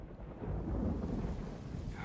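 Thunder rolls low and heavy with rain falling, a deep rumble swelling and fading over a couple of seconds, quiet and distant.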